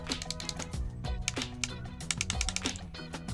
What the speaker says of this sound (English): They should not have a clicking noise to them